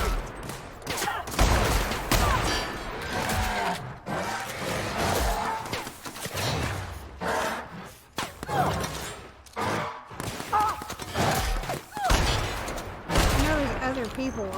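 Repeated gunfire bursts and thumps from firefights in The Outer Worlds, a video game set among ruins, sounding loud and irregular with music and game noise, while a player talks over the action throughout.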